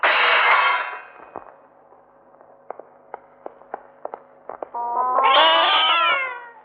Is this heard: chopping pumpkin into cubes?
no